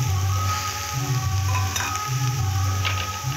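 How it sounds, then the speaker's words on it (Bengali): Boiled potato is mashed by hand with salt and ground spices, a soft continuous squishing and kneading that sits over a steady low background hum, with no voices. "তার সঙ্গে লবণ আছে দিয়ে এইভাবে মেখে নেব"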